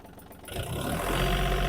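A Yanmar RS-27 mini tractor's small diesel engine starts up and settles into a steady, rumbling idle, loud and close, with a low chugging throb.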